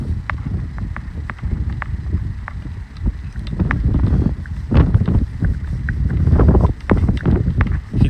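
Gusty wind by a river in a Moscow park buffets the microphone outdoors, rumbling low and steady, with scattered light knocks and clicks throughout.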